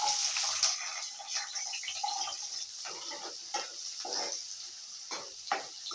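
Sliced onions fry in oil in a kadhai with a close, steady sizzle and crackle, broken by occasional bursts of stirring and scraping, with no voices.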